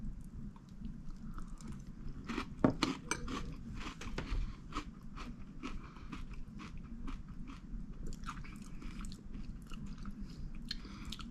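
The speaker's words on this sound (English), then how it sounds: "The crunch is really good." Crunchy chocolate marshmallow cereal being chewed close to the mic, a steady run of crisp crunches and bites over about eleven seconds, with no talking.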